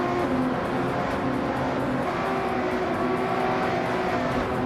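Renault Megane Trophy race car engine in a racing game, a steady droning roar held at high revs with a faint pitch wobble, loud and continuous with no voices.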